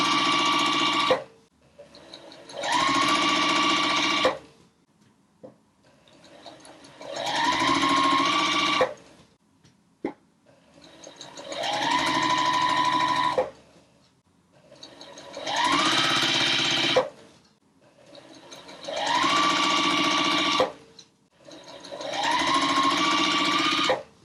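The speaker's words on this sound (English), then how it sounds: "I'm going to keep stitching without breaking my thread in between each new seam" A sewing machine chain piecing quilt squares runs in repeated bursts of steady stitching, each lasting a few seconds, separated by short pauses as the fabric is fed through, close and fairly loud with no talk.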